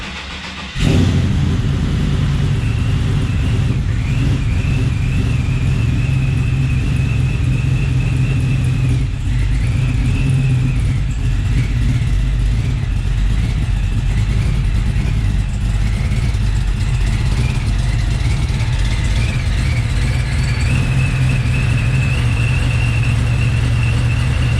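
A procharged truck engine runs loud and steady throughout, with a deep continuous rumble and a few rising revs and whines layered on top. No one speaks.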